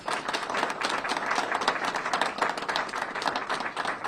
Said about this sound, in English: Let's give Chief Aziz a round of applause